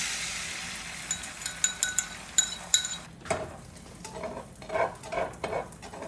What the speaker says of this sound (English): So I'm making a cheese omelet.